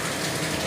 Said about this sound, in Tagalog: Karon na kusog na ulan no.